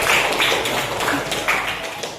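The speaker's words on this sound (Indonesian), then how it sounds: "Tepuk tangan." Hand clapping from a classroom audience during a geometry lesson, a steady patter of claps running for a couple of seconds with slight pulsing swells, fairly close and without other sounds over it.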